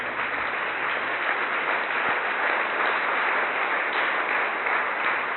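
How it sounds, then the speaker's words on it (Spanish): A church congregation bursts into steady, sustained applause in unison, a continuous wash of clapping heard at moderate distance with no talking over it. "Démosle el aplauso al Señor."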